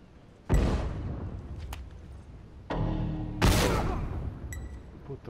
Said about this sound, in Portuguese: Ele foi estourar a bomba e morreu junto.